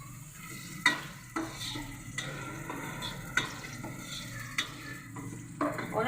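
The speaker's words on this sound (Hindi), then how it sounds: "अभी मैं इसमें प्याज डालूँगी।" Onions sizzle steadily in hot ghee for a black chickpea pulao, with a spoon stirring and clinking against the pan every second or so.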